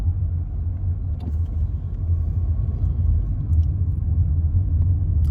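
Jammed road traffic at a night market, heard as a steady low rumble of idling and creeping car engines close by, continuous with no voices.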